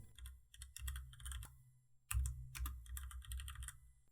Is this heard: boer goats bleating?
no